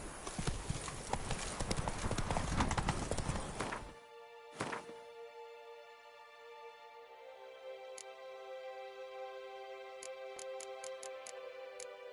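Roach the horse galloping in The Witcher 3, a rapid burst of hoofbeats loud and close for about four seconds, then a single thud and quiet ringing tones afterward.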